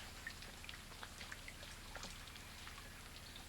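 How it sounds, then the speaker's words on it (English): Hailstorm late in the evening in Ripley, Mississippi, with stones bigger than golf balls: a steady, fairly faint patter of falling ice broken by scattered sharper individual strikes, with no voices. "Had a hailstorm."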